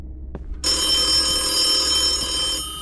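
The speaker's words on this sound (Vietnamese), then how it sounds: "Someone's calling me." A phone in a horror video game rings loud and steady, its bright electronic tone sustained for about two seconds after a brief quiet start.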